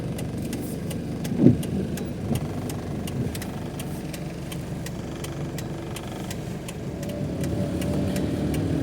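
Car engines idling as a convoy lines up behind patrol cars before a memorial drive, a steady low rumble close by with a brief thump early on and a slight rise near the end.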